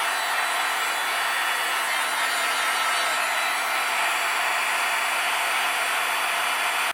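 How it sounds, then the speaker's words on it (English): A heat gun blows hot air to melt embossing powder on a handmade card, a steady, loud, unbroken whirring hiss that holds constant from start to finish. "I'm going to go ahead and take my heat gun"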